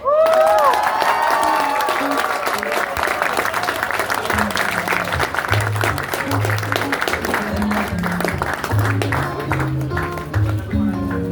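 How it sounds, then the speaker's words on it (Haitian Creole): A Haitian church congregation applauds in a dense, sustained wave of clapping mixed with some cheering, with instrumental music and low bass notes playing underneath the whole time. "Est-ce que vous pouvez applaudir encore une fois?"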